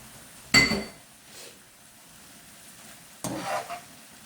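Spinach gets stirred into a simmering egg stew, with two short bursts of utensil scraping and clinking against the pot over a quiet, faint sizzle.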